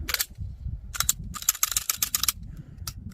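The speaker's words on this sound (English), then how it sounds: "Take the gun out, mag's empty," A P320 pistol is drawn from a holster and its empty magazine handled, giving a quick series of sharp, close mechanical clicks and snaps in uneven bursts, with no talking.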